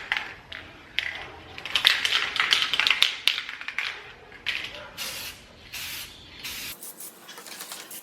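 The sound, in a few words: spraying a thin coat onto Toyota Tundra trim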